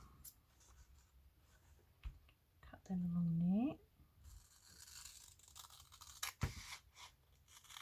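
Scissors cut through paper for a vintage floral journal in a few soft snips and crinkles, close and quiet, with a brief hummed voice in the middle.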